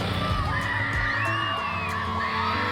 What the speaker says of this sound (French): Des cris d'enfants, des parents passionnés.